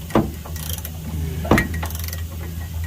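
A hand wrench ratchets on a rusted, spinning bolt on a GMC Sierra/Chevy truck gas tank strap, two distinct clicking ratchet pulls with brief metallic rattles over a steady low background hum.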